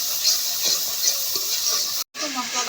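Spice paste frying in a pan for a pangas fish and eggplant curry gives a continuous, even sizzle with a few soft stirring taps, cut by a momentary silence just before the end.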